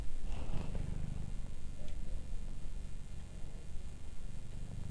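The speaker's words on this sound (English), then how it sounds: "She's actually purring." A cat lying on a lap purrs in a low, continuous rumble, close and steady throughout, with a faint background hiss and no talk.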